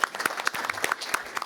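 A small group at an investment meeting gives a brief round of applause for a new Chief Investment Officer, sparse individual claps standing out sharply over a light, fairly quiet patter.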